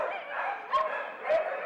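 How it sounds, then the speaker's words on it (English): Dogs barking at an animal shelter, a steady din of overlapping barks and yips from many dogs with two louder, sharper barks standing out near the listener. "Dog after dog after dog."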